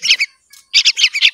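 Baby birds chirp loudly and close up while being hand-fed in a garden, a burst of shrill, rapid begging calls with a short break before several more quick, insistent chirps.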